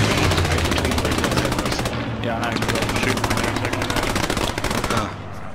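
Long sustained bursts of MG34 machine gun fire in the battlefield shooter Post Scriptum, a rapid loud mechanical rattle of shots nearly continuous for five seconds before cutting off, with voices heard faintly underneath.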